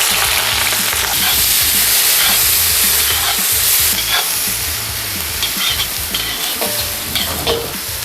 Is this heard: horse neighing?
no